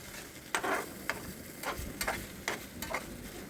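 Spicy teasel gourd mash with whole dried chillies frying in a wok under a soft, continuous sizzle, while a spatula scrapes and stirs in repeated quick strokes about every half second, close and quiet with no talk.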